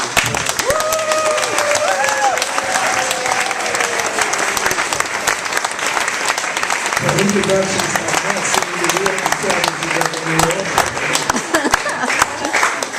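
A crowd applauds Charles Rangel at a United States Congress gathering, with loud, sustained clapping that runs the whole stretch and a voice speaking faintly over it.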